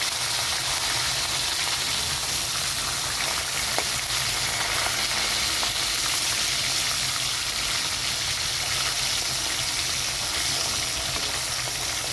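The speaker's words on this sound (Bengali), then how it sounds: "এখানে তো মাছটা ভাজা হচ্ছে" Bhola fish sizzles steadily in hot oil, a dense, continuous crackling hiss with no voices.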